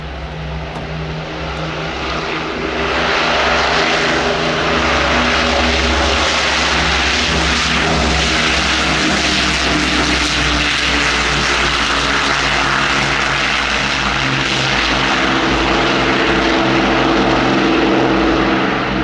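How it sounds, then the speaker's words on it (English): Royal Jordanian Falcons Extra 330LX propeller aerobatic planes getting airborne together at an airshow, a loud sustained buzzing propeller and engine drone that swells up after a couple of seconds and stays strong and close. "EA330 LXs of the Royal Jordanian Falcons getting airborne to initially position"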